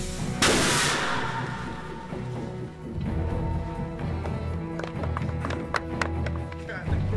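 The Jericho missile demonstration from the film Iron Man, shot at Lone Pine standing in for the Afghan mountains, opens with one sharp blast, then a rolling rumble and a run of smaller cracking explosions.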